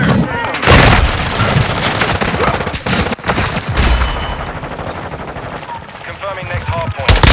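Rapid automatic gunfire and explosions in Call of Duty: Modern Warfare II multiplayer, loud dense bursts of shots with booms, mixed with in-game radio voice callouts.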